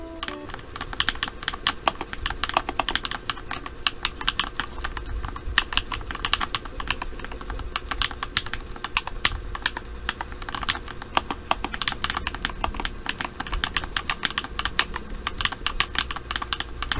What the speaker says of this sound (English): Gatherin Queen switches on Flydigi Scorpion D1 sounds like this.